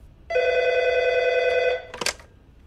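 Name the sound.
telephone ringing, anonymous call to police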